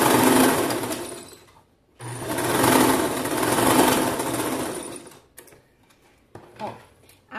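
A sewing machine runs in two close bursts of fast stitching with long stitch length on fabric for a semi-cropped top, pausing briefly between them, then quieter handling sounds and a short spoken remark at the end.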